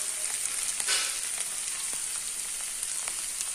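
Raw banana slices fry in hot oil for an Andhra-style raw banana fry, giving a steady, close, broadband sizzle with a few soft spatters and no voices.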